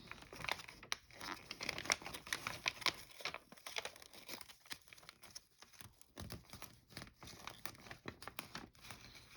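Paper for an origami fighter jet is folded and creased up close, giving soft continuous crinkling and rustling with small crisp taps throughout, faint and without voices.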